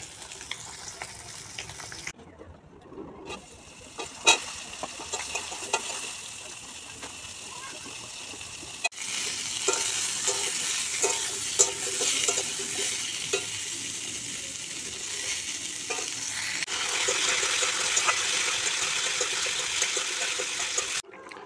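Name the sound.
fish pieces frying in a pan on a clay stove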